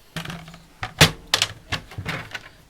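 Paper trimmer blade chopping card stock for a stamping craft project, a few sharp separate cuts and clicks with one louder snap near the middle, close and alone.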